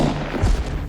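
A single gunshot fired in a film thuds out as one short, heavy low-end blast with no talk over it.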